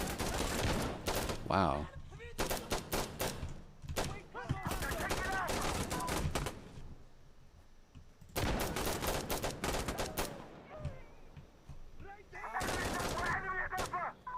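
Rapid bursts of automatic gunfire and single shots in the video game Insurgency: Sandstorm, loud and close, coming in several volleys with short gaps between them. A voice speaks briefly over the shooting.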